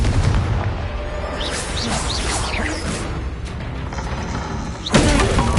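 Fiery Confringo spell blasts in Hogwarts Legacy, loud booming bursts with whooshing streaks amid ongoing combat noise, ending in a sharp, close impact.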